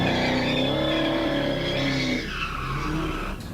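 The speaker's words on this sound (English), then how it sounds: "he slams head-on into the officer's stopped patrol car" A car doing donuts, its tires squealing loudly as the engine revs in a long skid, then the sound drops and ends with a short thud as it slams head-on into a stopped patrol car.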